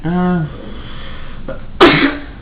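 A single sharp sneeze bursts out loudly near the end, right after a short stretch of speech and a quiet pause.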